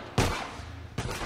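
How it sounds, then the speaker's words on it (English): Two loud, close gunshots in The Last of Us, spaced under a second apart, each with a short fading tail. "have you considered not shooting me?"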